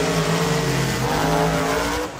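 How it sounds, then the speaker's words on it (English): Monster trucks racing side by side in a muddy arena at a night show in Miami, Oklahoma: loud, steady engine roar with revving that dips briefly partway through, no voices. "Another close race, and Jamie Garner tried to come back."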